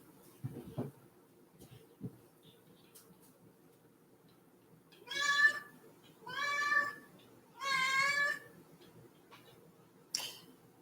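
A house cat gives three drawn-out meows in quick succession, close and clear, with soft taps and bumps before them and a short final cry after.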